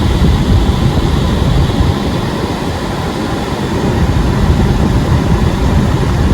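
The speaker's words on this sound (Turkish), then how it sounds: "klima isterseniz bir test edelim sesini." Air conditioning of a Peugeot 2008 running at maximum setting, a loud, steady broadband whoosh of blowing air that holds constant throughout without any talk.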